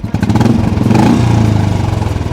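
A Royal Enfield Classic 350 motorcycle engine running close by with a deep, steady thumping idle and slight rhythmic clatter.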